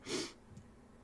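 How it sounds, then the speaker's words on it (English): A single sneeze bursts out close up during a mobile battle-royale scrim stream, a short sharp breathy blast followed by quiet room noise. "I'm going to sneeze again"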